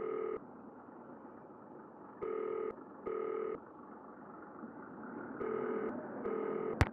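A phone call placed in the Nancy Drew game Danger By Design: steady ringback tones pulse in four separate bursts over a low hum, and a sharp click closes it as the line picks up.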